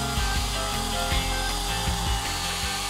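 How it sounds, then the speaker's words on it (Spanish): A power drill bores into wood at close range, its steady motor whine joined by rhythmic grinding and ratcheting as the bit cuts. "Taladrito. Taladrito y a por ello."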